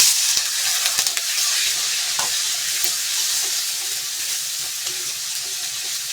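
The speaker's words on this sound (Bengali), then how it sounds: "তেলে ভালো করে মশলাটা একটু ভেজে নিই" Spice paste fries and sizzles in hot oil while it is stirred, a steady bright hiss with a few scraping stir strokes and a light watery splash near the start.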